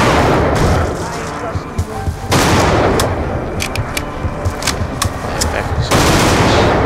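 Heavy gunfire in Black Ops 2 Zombies: loud, dense bursts and sharp repeated shots close up, with brief lulls between volleys.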